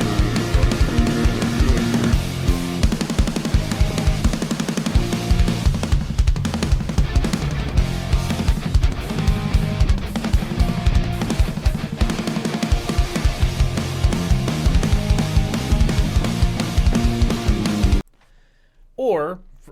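Music video recording of a band's song, a dense full-band rock mix with driving drums, loud and continuous, cutting off abruptly near the end followed by a brief quiet sound.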